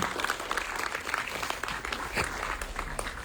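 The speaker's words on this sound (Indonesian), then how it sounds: "Boleh beri tepuk tangan sekali lagi dong untuk ketika berada di sini." Steady crowd applause at a press conference, a continuous wash of many hands clapping without a break, moderately loud with no clear voices.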